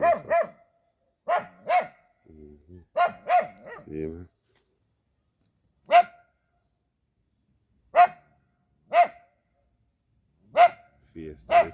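Dog barking in the aftermath of Hurricane Beryl in Jamaica, a few short separate barks spaced out over several seconds, fairly close, with brief talk between them.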